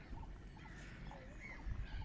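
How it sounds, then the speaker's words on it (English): Ducks on a village duck pond at Blakeney on a spring morning, faint distant quacking and calls scattered over low ambient outdoor noise. "Lots of noise coming off the duck pond."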